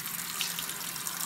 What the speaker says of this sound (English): we're going to take our noodles over to the sink and rinse them off with cold